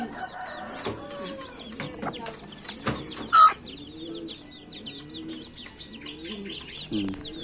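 A black Paraoakan hen clucks softly among her peeping chicks, with scattered low clucks, high chick calls and a few sharp knocks close by.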